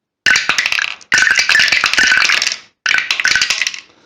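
Three rapid bursts of dice clattering and tumbling down a wooden tower, bright clicking rattles close by, each ending in a short settle.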